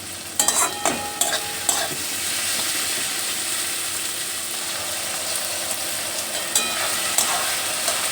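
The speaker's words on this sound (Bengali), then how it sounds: "মশলাটা আস্তে আস্তে ভাজা হোক" Ground spice masala fries in a pan with meat, tomato and onion, giving a steady, close sizzle. Sharp scraping clicks of stirring come early on and again near the end, with no talk.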